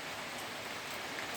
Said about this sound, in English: rain over there.